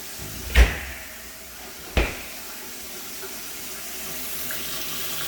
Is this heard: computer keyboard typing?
no